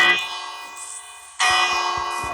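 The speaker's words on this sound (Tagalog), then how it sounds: "Doorbell po tawag ko dyan." A doorbell built in the Minecraft video game rings twice, bright bell-like chimes with a rich harmonic tone, the second strike louder and sustained to the end, with no talk.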